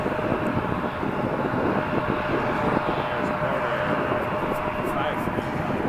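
A Porter Airlines Embraer 195-E2 departs Toronto Pearson, its jet engines a steady, broad roar that stays loud and close throughout, with wind buffeting the microphone on a chilly evening.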